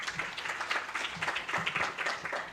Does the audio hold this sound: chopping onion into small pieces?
no